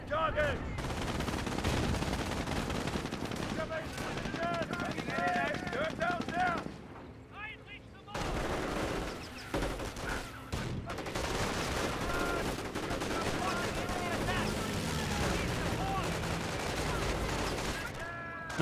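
Rapid rifle and machine-gun fire crackles almost nonstop through a Company of Heroes 1 World War II battle, with heavier blasts mixed in and a brief lull midway, all under continuous commentary from a voice.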